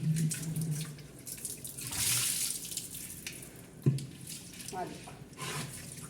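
Water runs and splashes steadily while an old clay water pot is washed, with a brief louder gush near the middle and a small knock partway through.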